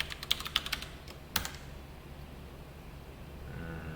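Quick bursts of keystrokes on a computer keyboard, a short flurry of taps followed by one sharper key press, then quiet room tone; close and moderately loud, with no voices.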